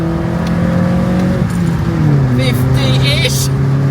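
A Vauxhall Corsa accelerates hard from a standstill to 60 with a bit of wheelspin, its engine note climbing steadily and loud from inside the car, with a brief higher whine late on.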